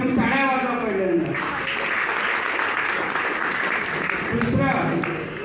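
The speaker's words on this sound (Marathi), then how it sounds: "यावर सगळ्यांनी टाळ्या वाजवा पहिल्यांदा." An audience claps in a sustained round of applause at a gathering, steady and fairly loud, with a voice speaking over the start and again near the end.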